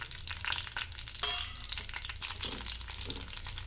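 Torn green chillies frying in hot oil in a pan, a steady loud crackling sizzle with dense popping throughout, close and continuous with no talk.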